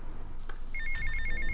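A phone call ringing in GTA Vice City: a repeating electronic ring tone of short pulsed beeps starting partway in, clear over a faint game background.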